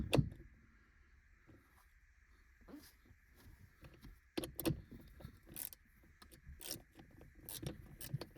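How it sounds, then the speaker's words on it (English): A plastic interior cover is prised out of a Fiat 500, giving a series of sharp clicks, scrapes and rattles of close plastic, quiet overall with a few louder snaps toward the end. "First thing we've got to do is just pop this cover out."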